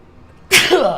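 One loud, close human sneeze bursts in abruptly after a quiet start, a sharp explosive onset followed by a brief breathy tail.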